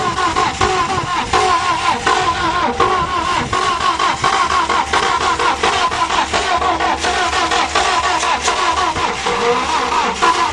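A Ford Topaz car engine with a cracked cylinder head runs steadily and close by, a continuous rough mid-pitched drone with rapid uneven pulsing throughout, alone without talk.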